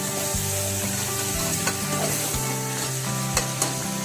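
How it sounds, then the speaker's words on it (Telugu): Mutton pieces frying in hot oil in a pan, a loud dense sizzle under a low steady hum, with a few soft stirring knocks and scrapes, close and continuous, no speech. "మటన్ కొంచెం కలర్ వచ్చేంత వరకు వేయించుకోవాలండి ఆయిల్లో."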